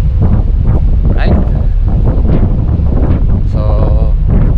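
Wind gusts buffet the microphone on a boat trip around Istanbul, a loud, rough roar that rises and falls, with someone talking over it and brief engine or water noise in the background.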